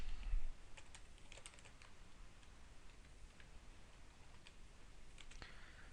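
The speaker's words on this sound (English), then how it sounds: "So if we were to type in inventory," Faint, scattered keystrokes from typing on a computer keyboard while entering an inventory search, a few light clicks at a time over quiet room hiss.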